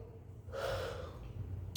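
One drawn-out yawn at night, a breathy inhale that swells and then fades into a soft exhale, heard close but faint over a low background hum.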